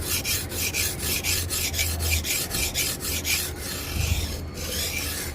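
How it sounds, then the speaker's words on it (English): Rhythmic rasping strokes of a 120-grit sharpening tool regrinding new bevels on a badly damaged cleaver, steady back-and-forth grinding close up on an old, wobbly workbench, with no talking. "Just gonna use the Sharpening 120 and we're gonna regrind new bevels on this."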